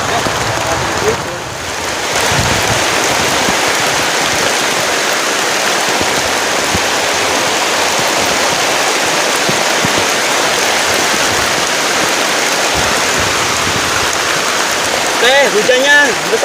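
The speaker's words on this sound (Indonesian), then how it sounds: "hujannya besar banget teman-teman" Heavy downpour drums steadily and loudly on a camping tent during a storm with thunder and strong wind, a dense unbroken roar that runs throughout with a voice briefly speaking near the end.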